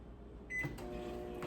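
A microwave oven heating water gives a steady low hum with a brief high beep and a soft clunk partway through, running continuously and fairly faint.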